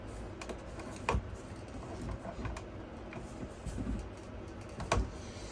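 A cutter trims PEX water pipe to length during an RV toilet replacement, making a few sharp snaps and clicks. Quiet handling noise runs between them, close and indoors.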